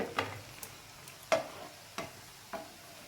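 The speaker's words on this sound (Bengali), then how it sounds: "এভাবেই সমস্ত পকোড়াগুলো আমি ভেজে আপনাদেরকে দেখাচ্ছি" Coriander-leaf and cauliflower pakoras fry in hot oil, giving a quiet, steady sizzle with a handful of sharp crackles and pops spaced about a second apart.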